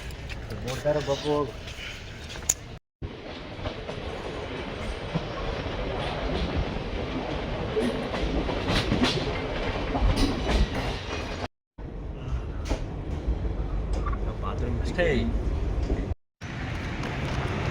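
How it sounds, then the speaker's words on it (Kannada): A train rumbles and clatters nearby with rhythmic rail noise, while people talk over it; a few brief cuts interrupt the sound. "ಯಾವುದೋ ಟ್ರೈನ್ ನಿಂತೈತಿ"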